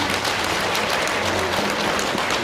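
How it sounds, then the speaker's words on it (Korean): Audience applause for the mayor and city officials at a Yangju civic gathering, a dense, steady wash of many hands clapping at once, loud and continuous throughout with no voices standing out. "우리 시장님과 우리 시청의 공직자들을 위해서 한번 격려와 감사의 박수 부탁드립니다"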